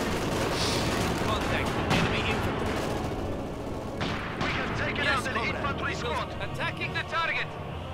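Battlefield gunfire from Company of Heroes 2, a World War II strategy game in a snowy setting, with dense overlapping shots and bursts near and far, loud throughout, with a voice talking over it at times.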